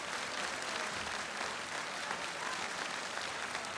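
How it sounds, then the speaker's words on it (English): An audience at a gala tribute to teachers applauds, a dense, steady wash of clapping from a large crowd that stays even and loud throughout, with no voices standing out. "Your applause, please."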